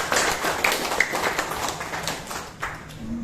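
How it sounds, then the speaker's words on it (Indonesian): An audience applauds at a community gathering about resettling the Kampung Tua of Sungai Binti, honouring Haji Muhammad Rudi; a dense, steady wash of many hands clapping fills the room for a few seconds. "Tepuk tangan dulu untuk Bapak Haji Muhammad Rudi."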